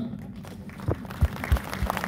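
A hall audience gives scattered applause in welcome for a guest named Rajiv, with a few distinct loud claps over a soft, steady patter.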